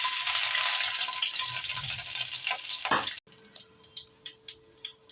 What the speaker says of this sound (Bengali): রসুনের কোয়াগুলো একটু ভাজা ভাজা হয়ে গেছে।